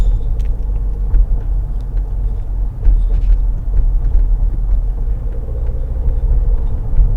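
Steady low engine rumble and road noise of a car driving along a road, continuous and fairly loud throughout with no talk.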